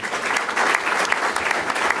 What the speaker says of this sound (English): Matt Fabian, big round of applause